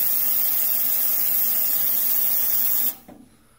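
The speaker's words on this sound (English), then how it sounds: "We're going to turn on the ultrasonic cleaner." A 600 W ultrasonic cleaner runs with a loud, steady, broad hiss that holds evenly for about three seconds, then cuts off abruptly and leaves a brief faint rattle and quiet.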